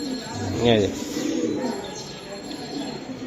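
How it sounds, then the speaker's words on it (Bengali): Racing pigeons in a loft give a soft, low cooing burst, fairly close, over a steady murmur of ambient room noise and faint bird sounds. "আমি একটু দেখাই দিই ভাইয়ের লফটের ভিতরে কবুতর"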